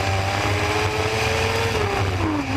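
A race vehicle's engine holds a high, steady whine at around 12,000 RPM on a slow track at Sweet Springs Motorsports Complex, loud and close, its pitch drifting slightly downward near the end.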